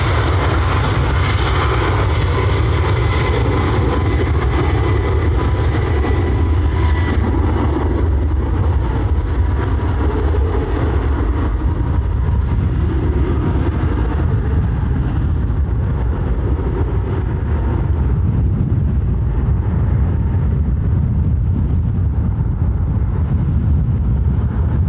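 Airliner landing at Dublin Airport, a loud continuous jet engine roar close by that holds steady throughout and slowly shifts in tone as the plane passes, with no talking.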